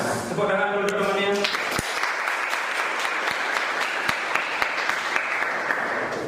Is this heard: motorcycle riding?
no